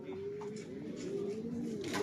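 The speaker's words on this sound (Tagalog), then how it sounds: "may kalapati bata sa taas eh" A young pigeon up on the roof coos in soft, low repeated notes at a moderate distance, with faint background noise around it.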